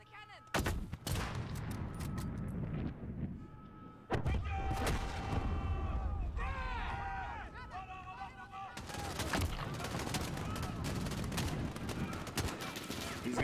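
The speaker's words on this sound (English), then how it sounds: "Elane, fire the cannon!" Cannon and gunfire in the Modern Warfare mission "Proxy War": loud booming blasts and rapid shots in bursts over about thirteen seconds, mixed with shouted voices and battle noise.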